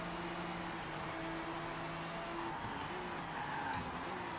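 Race car tires squeal as the wheels lock up under hard braking in the Forza Motorsport racing game, a steady skid over a continuous engine drone lasting a few seconds.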